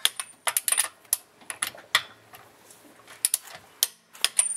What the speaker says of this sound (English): Torque the wheels.